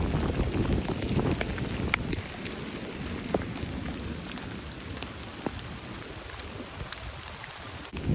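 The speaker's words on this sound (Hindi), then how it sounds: "बारिश जिस तरह से हो रही है लगता है ये रुकेगी नहीं।" Heavy rain pours steadily on a hot-season day near a kitchen, a dense continuous hiss of drops on surfaces with occasional louder nearby splats and a faint low rumble underneath, no voices.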